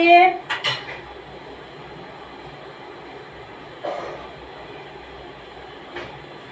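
Metal pots and dishes clatter and clink in a home kitchen during ginger-garlic paste making, a burst of knocks at the start, then a couple of isolated clanks over a steady low background hum.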